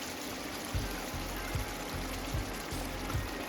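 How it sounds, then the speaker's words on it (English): Dry red wine poured from a measuring cup into a hot pan of simmering moussaka meat sauce, a steady liquid trickle and splash running continuously at close range. "Pour in 1/2 cup of dry red wine."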